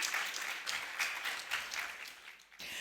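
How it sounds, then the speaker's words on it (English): At a business summit panel, the audience gives a round of applause, moderately quiet clapping with uneven bursts that thins toward the end, stops briefly, then picks back up. "please give them a warm round of applause"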